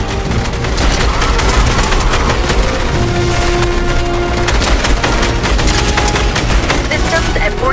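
Dense, continuous rapid gunfire from Fortnite during the Chapter 3 Season 2 ending event, with fast bursts layered over booming effects and game music, loud and steady throughout.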